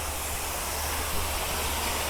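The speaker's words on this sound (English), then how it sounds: "they've created like 3 or 4 waterfalls" Several man-made waterfalls cascade into a lake at a monument on the Tidal Basin in Washington DC, giving a steady, unbroken broadband rush of falling water with no voices.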